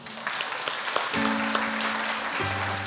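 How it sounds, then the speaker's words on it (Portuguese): Applause from a crowd, dense broadband clapping that fills the clip, with a steady hum entering partway through. "Uma salva de palmas para a IA."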